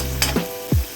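Cumin seeds dropped into hot oil, which already holds mustard seeds, give a short crackling sizzle over about a second, with two brief bursts of sputtering. Nobody speaks.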